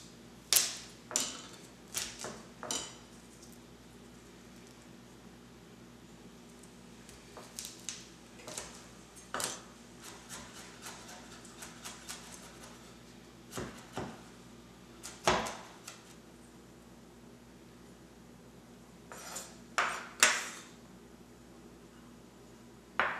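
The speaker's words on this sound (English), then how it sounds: "Next, we're going to chop up our 3 cloves of garlic." A knife chops three garlic cloves on a cutting board in a home kitchen, giving sparse, sharp taps and short bursts of clicks at an irregular pace, close and fairly quiet, with no voices.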